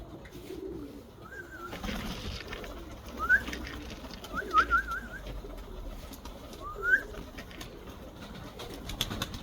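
Pigeons coo softly in short, rolling bursts every second or two, set against a quiet, rustling background.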